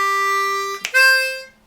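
Harmonica call and response lick, a 3 blow then a 4 blow: one steady held note, a brief breathy break, then a brighter higher note that swells and fades, played alone up close.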